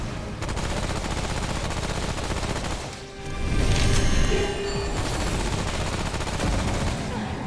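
Video game gunfire from Remnant: From the Ashes, a dense continuous volley of loud shots and impacts that briefly dips, then returns with heavier booming bursts, with some speech in the mix.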